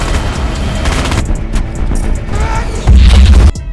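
Tank cannon blasts and gunfire from a WWII battle against a Nazi German tank, a loud, dense barrage of booms and shots with a heavy low thump near the end before a sudden cut.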